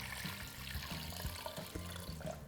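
About 2.5 liters of water pour into a pot of browned lamb for ghormeh sabzi, a continuous gurgling, splashing stream that is close and moderately loud, with no talking.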